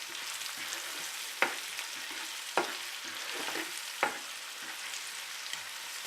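A cauliflower curry with salt is stirred in a hot pan under a continuous sizzle, with three sharp spoon scrapes against the pan spaced a second or so apart, close up and without speech.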